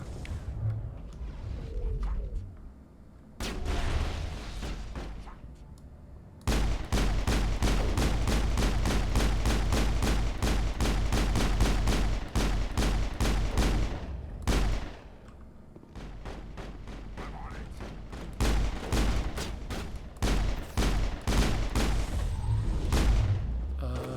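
Sustained gunfire from the Mass Effect co-op video game, rapid bursts of shots and booming impacts running almost continuously with short pauses between volleys.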